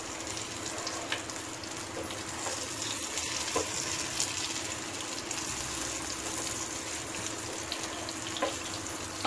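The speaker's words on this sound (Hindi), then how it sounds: "अब दूसरी तरफ से भी हम इसको करीब 1 से 2 मिनट के लिए इसको फ्राई होने देंगे।" Chickpea kebabs fry in a pan over a medium-low flame, a steady, even sizzle and crackle that runs continuously at moderate volume with small pops scattered through it.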